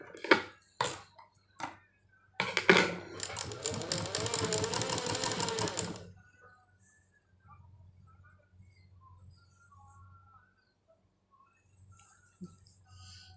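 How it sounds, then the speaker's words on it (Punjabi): A sewing machine stitches a kasheera in one continuous whirring run of about three seconds, preceded by a few sharp clicks and handling knocks, close and fairly loud, then near silence. "ਇਹਨੂੰ ਆਪਾਂ ਸਿੱਧੇ ਪਾਸੇ ਦੀ ਸਿਲਾਈ ਕਰਦੇ ਆ"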